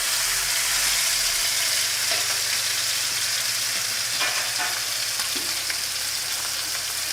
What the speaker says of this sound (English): now we're going to take our steaks into a nice hot pan